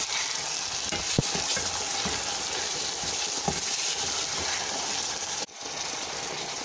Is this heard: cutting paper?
no